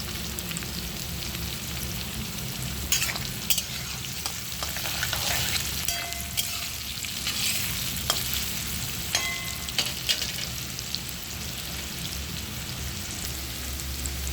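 Sliced ridge gourd fries in a pan with a steady, close sizzle and crackle, broken by scraping and tapping as it is stirred.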